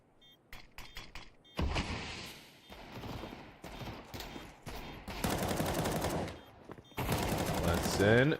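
Rapid bursts of gunfire from a Counter-Strike esports match, with dense sustained volleys and sharp single shots in the closing seconds, heard under fast commentary.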